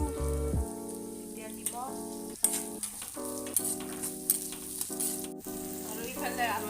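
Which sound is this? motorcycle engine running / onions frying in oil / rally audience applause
onions frying in oil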